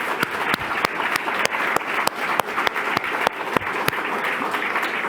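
An audience at a European summit award ceremony in Prague applauds, a dense, loud wash of clapping with prominent individual claps standing out at an even pace throughout.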